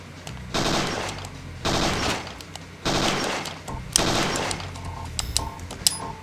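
Gunfire at targets in the PlayStation game Parasite Eve 2, heard as four loud bursts of rapid shots separated by short pauses.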